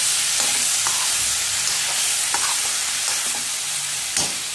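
Spiced pumpkin sabzi with extra chili, cooked for its sweetness, frying in a pan under a continuous close sizzle, with several light spatula taps and stirs scattered through it.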